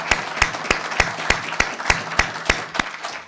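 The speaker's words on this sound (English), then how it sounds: "Let's give a round of applause for both of our candidates" Steady rhythmic clapping from an audience honoring two candidates at the close of a 2012 primary debate for the 112th House District, sharp, evenly spaced claps about three per second, fairly close and unaccompanied by talk.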